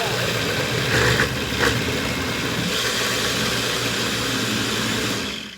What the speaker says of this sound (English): all we do is turn on the blender